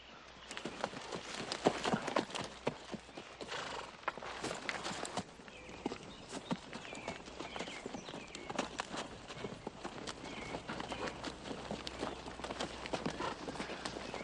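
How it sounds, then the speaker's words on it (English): Horse hooves clip-clop steadily on hard ground, several horses walking in an uneven rhythm, fairly close, with no talking. "Eddie, you hold the horses."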